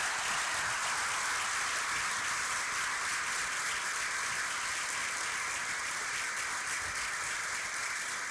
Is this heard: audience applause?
yes